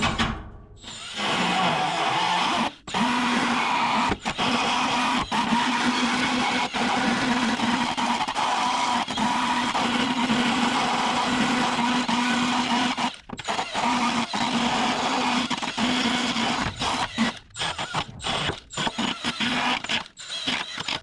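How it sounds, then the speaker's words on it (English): A die grinder fitted with a burr bit grinds metal on a Datsun 280Z during a suspension install. It gives a continuous high whine broken by short pauses and a run of brief on-off bursts toward the end. "Now we'll clean that up with our die grinder with a burr bit on it."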